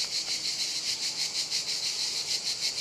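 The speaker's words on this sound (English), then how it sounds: "I know some people can't stand the sound of cicadas." Cicadas sing in a summery setting, a loud, steady high-pitched buzzing that pulses in quick regular waves throughout.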